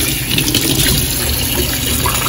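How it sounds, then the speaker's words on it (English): Tap water runs steadily while hands are washed in a home kitchen during cooking, a loud, continuous splashing gush that fills the whole moment with no voices over it. "Always make sure to wash your hands"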